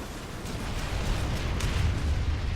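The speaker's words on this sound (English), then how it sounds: "that was an impressive explosion." A big in-game explosion in PlanetSide 2 during a huge 240-versus-240 battle on the snowy map Esamir, a deep rumbling roar that swells and holds steady for a couple of seconds with no talk over it.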